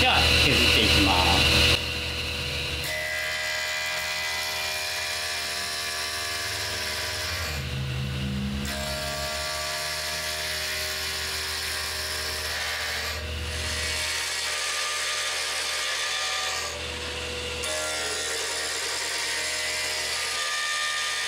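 A blade shaves a square metal piece into a round shape in a metalworking workshop, giving a steady, continuous scraping rasp. The sound holds loud and near throughout, with a few brief pauses.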